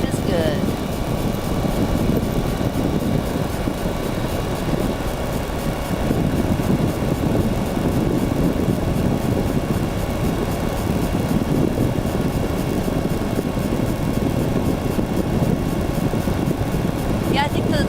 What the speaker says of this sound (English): I think the feel of the engine and the sound of the engine and just the wind blowing on you